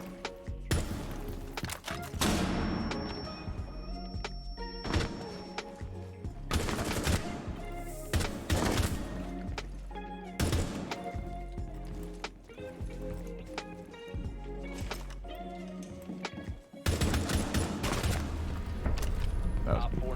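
Rapid bursts of gunfire from the video game Rainbow Six Siege, loud repeated volleys and single shots across the whole stretch, with thuds and clatter between exchanges.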